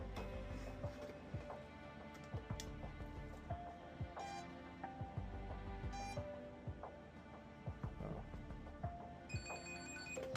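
A telephone rings repeatedly in a restaurant during installation of a Toast POS system, a steady electronic ringing pattern sounding at regular intervals over a low background hum and scattered clicks.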